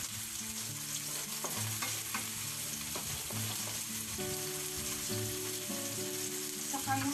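Onion tossed into a hot pan for a spaghetti sauce sizzles steadily and close, with scattered scraping and stirring clinks over the frying hiss and no talking.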